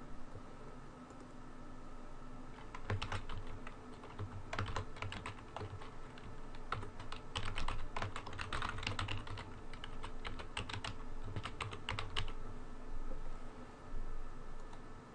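Typing on a computer keyboard to fill in account registration fields, with irregular bursts of close clicking over a steady low hum and short pauses between entries, and no one talking.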